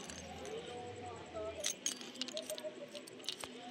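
Two keys jangling at a hill riding spot in Bulacan, a few light metallic clinks and rattles in short bursts, heard close among quiet background noise.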